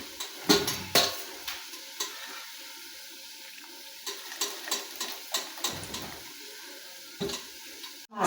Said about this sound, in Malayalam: മക്രോണി നന്നായി വെന്ത് ഇനി നമുക്കിത് ഊറ്റി വെക്കാം